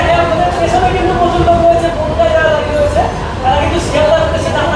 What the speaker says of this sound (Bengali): দু নম্বর প্ল্যাটফর্মে কিন্তু ট্রেনটা দিল